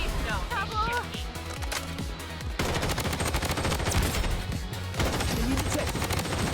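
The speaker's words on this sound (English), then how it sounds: "nobody likes fighting against that shotgun" Shotgun and other gunfire in the online shooter Blood Strike, a dense run of sharp repeated blasts at close range, loudest in the back half, mixed with game sounds and spoken voices.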